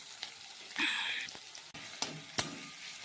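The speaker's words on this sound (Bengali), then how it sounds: "পেঁয়াজগুলো দেখো ভাজা হচ্ছে।" Onions fry in hot oil for a chicken kosha, a soft continuous sizzle with a brighter crackling burst early on and a few sharp clicks of stirring or utensil taps.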